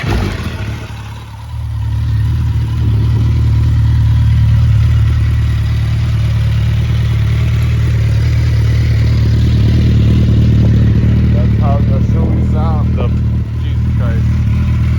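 A 2019 Suzuki Hayabusa with Yoshimura R77 slip-on exhaust runs loudly and steadily up close, a deep rumbling idle with a raspy exhaust note that holds throughout.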